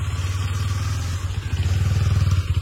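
A motorcycle engine idles and runs with a steady low throb, its pulsing rhythm firming up as it revs slightly toward the end, close and fairly loud with no talk.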